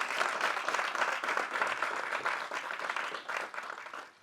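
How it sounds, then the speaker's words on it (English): An audience at a small inspirational event claps together, a dense, even burst of many hands held steady for several seconds before easing slightly at the end. "And clap for yourselves"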